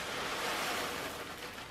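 Uncooked rice pours from a bag into a storage container, a dense, continuous close-up hiss of grains streaming steadily, with no talking.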